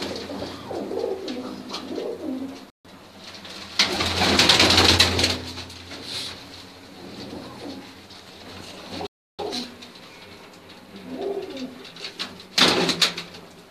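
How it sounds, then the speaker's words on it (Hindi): Breeder pigeons coo in repeated soft, throaty phrases, close by, with intermittent wing flutters and rustling bursts; birds stay audible throughout, with no talk. "उनके कबूतर हैं।"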